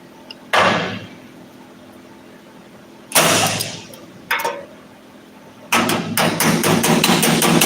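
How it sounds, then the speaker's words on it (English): Hammer blows on a chisel chasing along a weld seam, a few sharp metallic strikes spaced apart, then a quick run of rapid ringing taps near the end, close and loud. "So we're gonna chase the seam with the chisel"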